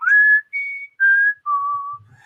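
A person whistles a short tune of four clear sustained notes, loud and close, with brief pauses between them and no talking.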